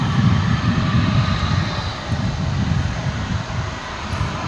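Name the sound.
American Airlines A321neo jet arriving at DFW airport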